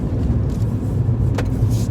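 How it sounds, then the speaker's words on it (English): Toyota Yaris Hybrid with a CVT accelerating, a steady low drivetrain drone and faint whine heard from inside the cabin, continuous and even in level with no talking. "you can hear that ACVT whine a little bit when you put under the foot on the acceleration there"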